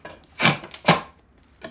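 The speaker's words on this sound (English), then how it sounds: "I need to draw the knife towards me and I'm going to curve it down at the same time" A knife draws along a wooden board to shape a shoulder for a trug: two close, rasping shaving strokes about half a second apart, each a short loud scrape fading out.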